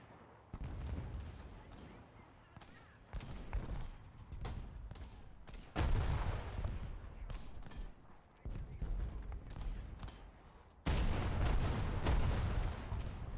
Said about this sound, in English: Where's that guy lobbing shells from?